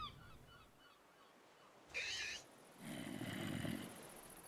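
Gallimimus dinosaurs in modded Minecraft give honking, goose-like calls, one short shrill cry followed by a lower, longer honk, faint against quiet background.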